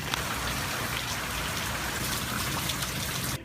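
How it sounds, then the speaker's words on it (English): Steady rain falls during a gray, overcast week that floods an apartment complex in Gainesville, Florida; a dense, even hiss of drops hitting surfaces runs unbroken and fairly loud throughout, with no voices. "quickly turned into a gray, overcast, and rainy week"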